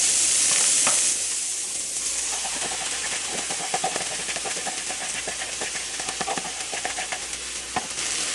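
A creamy sauce for chicken vegetable pasta is stirred in a hot pan, with a steady close sizzle and hiss and soft scraping strokes throughout, louder in the opening second.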